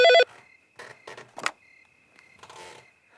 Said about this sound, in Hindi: इतनी रात को फोन कौन कर रहा है?